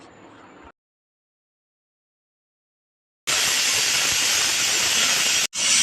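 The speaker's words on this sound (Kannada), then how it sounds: "ಕುಕ್ಕರ್ ಲಿಡ್ನ ಕ್ಲೋಸ್ ಮಾಡಿ 3 ವಿಷಿಲ್ ಬರೆಸಿ" A pressure cooker cooking palak rice lets off a loud, steady rush of steam that starts abruptly after a silent gap, holds for about two seconds, cuts briefly and resumes.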